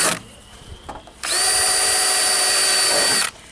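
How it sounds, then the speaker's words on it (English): A power drill bores holes, running at full whine for about two seconds after a short stuttering start, loud and close, then cutting off abruptly. "So I just take a drill, drill some holes in there"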